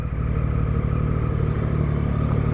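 A motorcycle weaving between lanes of slow traffic, its engine a steady, close, low-pitched chug mixed with surrounding vehicle rumble, no voices.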